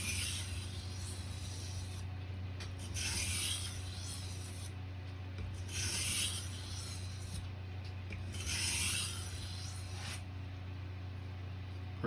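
A kitchen knife is honed on a whetstone in a final pass to remove heavier scratches and burrs, giving steady close rasping strokes with a few louder sweeps, no talking.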